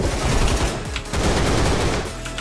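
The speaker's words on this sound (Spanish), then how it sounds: "está disparando por ahí" Rapid automatic gunfire in the shooter game Line of Sight, a short, loud, continuous rattle of shots with a brief dip midway and no voices.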